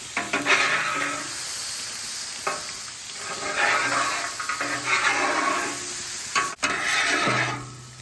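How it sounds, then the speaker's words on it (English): A metal scraper working back and forth over a hot cast iron Blackstone griddle, with repeated rasping strokes under a steady sizzle and hiss of steam, close and fairly loud, with no talking. "just kind of work it with your scraper back and forth"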